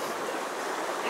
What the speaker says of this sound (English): Hallelujah. We have water in the creek.